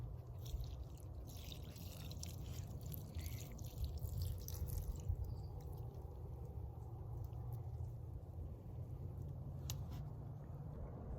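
Water mixed with aloe vera is poured steadily over freshly planted ranunculus bulbs in a garden, a quiet continuous trickle and drip onto soil with no talking.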